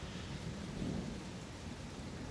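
A night hailstorm with heavy rain and rolling thunder: a dense, continuous rushing patter with a low rumble swelling in the middle, steady and enveloping, with no voices.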